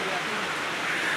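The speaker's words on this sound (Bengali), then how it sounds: "নন স্টপ বৃষ্টি চলছে" Steady, unbroken rain falls outdoors during a picnic, a continuous broadband hiss of drops that stays even and fairly loud throughout.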